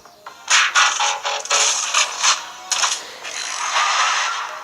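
Plastic parts of a Transformers Sunstreaker toy clicking and scraping as it is transformed, a close series of short ratcheting snaps and rattles in bursts with brief gaps, no talking.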